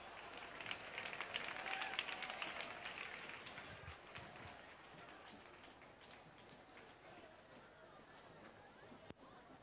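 A crowd applauds to welcome the mayor at an outdoor San Juan night celebration in Sabinillas, Manilva. Faint, distant clapping swells early, then thins into a softer patter as a voice comes in near the end.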